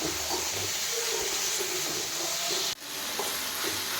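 Green chilies, garlic, onion, tomato, cashews and ginger fry in a pan with a strong, steady sizzle and hiss, broken once by a brief dip as the food is stirred.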